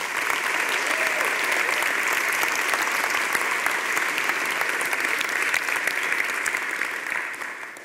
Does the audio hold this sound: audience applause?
yes